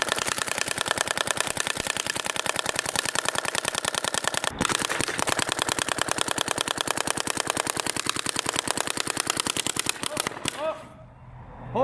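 A paintball marker fires rapidly at a paintball mask, producing a long, even stream of close, sharp pops with a brief gap partway through before it stops abruptly.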